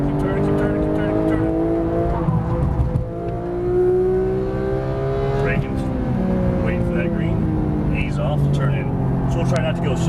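2015 Porsche 911 GT3 race car on the Las Vegas Motor Speedway, its engine loud and close, rising and falling through throttle changes and shifts, while a voice talks over it.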